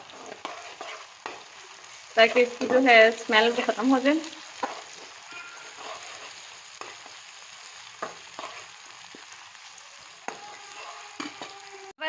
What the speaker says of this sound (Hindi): हमने अदरक लहसुन के पेस्ट को जो है वो 2 से 3 मिनट के लिए भूनना है